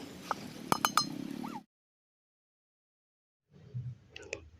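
A metal lid goes onto a pot of village-style country chicken curry cooking outdoors, making a few sharp clinks close by. A short silence follows, then softer clinks.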